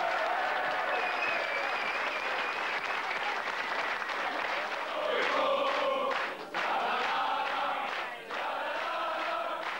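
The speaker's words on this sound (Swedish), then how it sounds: "Ge honom en lycka till applåd." A crowd applauding at a celebration after the final round of the 1997 Swedish Allsvenskan football season, steady loud clapping with some cheers over roughly ten seconds.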